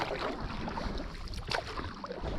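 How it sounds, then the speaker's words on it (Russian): Oars splash and knock as a small boat is rowed against the wind on a lake, with steady wind buffeting the microphone and water sloshing close by. "Задолбался я грести против ветра."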